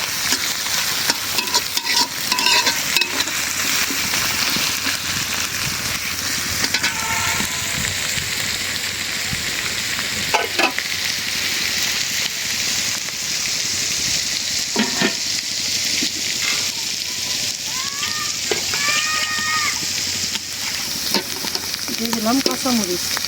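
Shrimp sizzle and crackle in hot oil as they are stirred, with a scraping spatula at irregular moments over a steady, close frying hiss.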